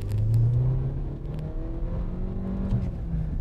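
An Audi A3 8V accelerates, its engine note climbing through rising revs, dipping briefly, then pulling up again, heard close from inside the car with no voices.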